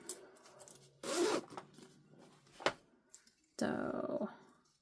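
A zipper on a sewn bag being handled, giving several quick rasping zips in bursts separated by quieter clicks and fabric handling, close up.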